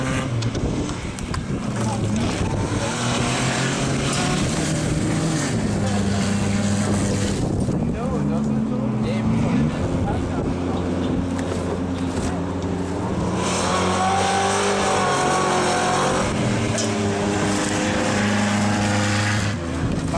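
Loud engines roar continuously as cars race around an oval dirt track, pitch rising and falling as they pass, with shouting voices mixed in.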